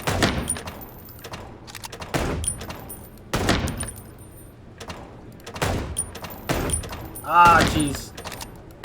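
Gunshots in the game Chicken Police: single loud cracks spaced roughly a second apart, ringing out one after another, with a man briefly muttering an exclamation near the end.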